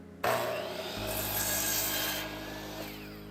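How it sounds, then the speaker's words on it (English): Four clamped pieces of scrap wood cut together with a power saw: a sudden loud start, then a steady close grinding rasp for about two seconds that fades as the blade finishes the cut. "In order to cut all 4 pieces the same size, I cut the first piece, then I clamp all 4 pieces together"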